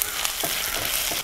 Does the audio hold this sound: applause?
no